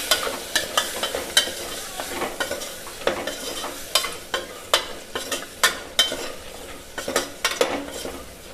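Potato and pea curry stirred in a sizzling pan, a spoon scraping and clacking in quick repeated strokes over a continuous frying hiss, close up with no talking.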